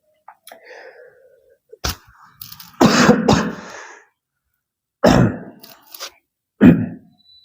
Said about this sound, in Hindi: अभी ये खांसी ठीक नहीं हुई है।